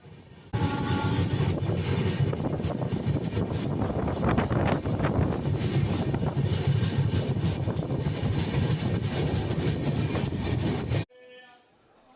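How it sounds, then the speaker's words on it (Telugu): The Yeshvantpur Superfast Express pulls into platform 3 at Hindupur railway station with a loud continuous rumble, rattling wagons and wind buffeting, then it suddenly gives way to quieter ambience near the end. "ఈ హిందూపురం రైల్వే స్టేషన్లో ఈ ట్రైన్ 3వ ప్లాట్ఫారంకి చేరుకుంది"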